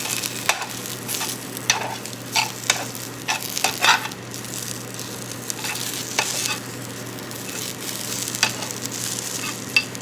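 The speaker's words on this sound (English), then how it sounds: "my onions and my garlic, cooking into there nicely" Onions and garlic fry in a pan with a steady close sizzle, broken by repeated scraping strokes of a utensil stirring them at an irregular rhythm, and no one speaking.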